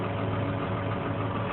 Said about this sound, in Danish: Vi kører høster.